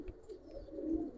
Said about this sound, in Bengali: এই যে আমি ছাড়লাম কবুতরটা